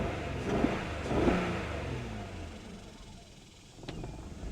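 A 2001 Nissan Maxima engine at a rough, unsteady idle, revving briefly then sagging and struggling as if about to stall, heard close with a faint voice over it.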